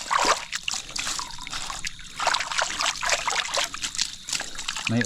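Strong flowing water on a farm during rain, a steady broadband trickling and rushing wash that stays loud and close throughout, with small splashy fluctuations and no talk.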